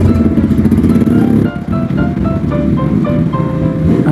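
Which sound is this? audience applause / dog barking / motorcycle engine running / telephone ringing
motorcycle engine running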